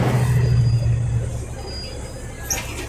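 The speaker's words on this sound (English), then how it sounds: "I'm on the bus now." Inside a moving public bus, route 120, near Iguazu Falls in Brazil: a loud, steady engine rumble and road roar with a low hum, and a brief hiss like an air brake near the end.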